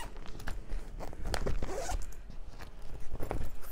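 The zipper on a fabric laundry bag for rags is drawn open, a close, steady raspy zip that runs through a few seconds, with bursts of fabric rustle and handling around it and no talking.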